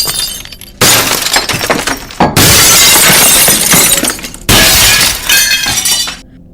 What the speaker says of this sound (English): his voice was interrupted by the sound of shattering glass, booming through the headset